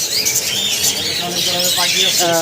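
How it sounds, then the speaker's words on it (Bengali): Budgerigars squawk and chirp in a pet bird shop, busy overlapping bird calls close by with some voices mixed in. "এখানে অনেক ধরনের পাখি আছে বাজিগার আছে এই যে উপরে কিছু বাজিগার আছে"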